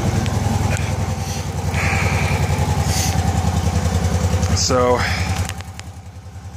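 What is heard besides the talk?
1989 Honda Pacific Coast PC800 fuel-injected motorcycle engine idling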